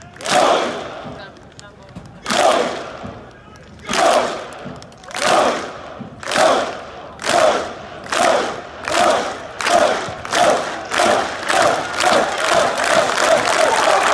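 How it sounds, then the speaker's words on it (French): A large golf tournament crowd cheering and roaring in rhythmic waves, bursts coming faster and faster until they merge into continuous loud cheering. "C'est d'ailleurs le seul événement dans le golf où il y a autant de bruit."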